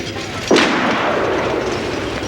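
Gunfire in the 1987 film Funland, heard as a single sharp boom that fades into a long rumbling echo, loud and fairly distant, with no talking.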